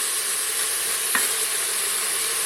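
Steady, bright sizzling of beef browning in a hot pan, a constant crackling hiss with one brief scrape partway through.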